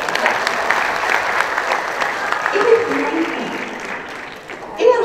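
Audience applause at a speech, steady clapping with voices calling and talking over it, swelling briefly near the end.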